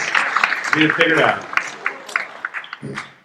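Conference attendees at Monitorama PDX 2022 clap briefly while speech runs over it, then a few scattered claps trail off.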